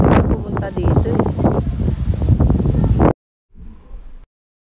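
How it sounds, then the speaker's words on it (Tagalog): Strong wind buffets the microphone in a rainy outdoor garden on a Cebu mountainside, a loud continuous roar for about three seconds before cutting out, then returning more faintly. "Lakas ng hangin."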